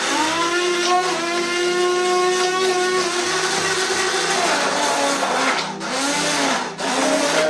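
A loud, steady electric whir of a blender mixing lemon cake batter continuously, its motor pitch shifting slightly as it churns, with a couple of brief dips near the end.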